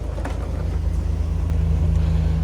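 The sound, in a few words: Nissan R34 GT-R engine idling while warming up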